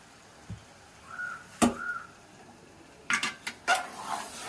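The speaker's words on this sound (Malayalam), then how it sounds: "ഇനി നമ്മൾ ചിക്കൻ അതിൽ ഇട്ട് കൊടുക്കുകയാണ്" Chicken pieces go into a curry pan in Kerala-style cooking, with a few sharp metal clinks and clatters of spoon against pan separated by quiet gaps. No talk is heard.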